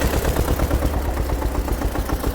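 Homemade tractor engine running in frost at about minus nine degrees after a hard start using the decompressor, giving a loud, close, steady chugging idle with rapid even knocks.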